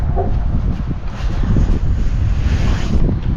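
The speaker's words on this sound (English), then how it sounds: "Lord, that wind. Been like this for 4 days." Strong wind buffets a farm setting, a loud, constant roaring gust pressing against the microphone with no break throughout.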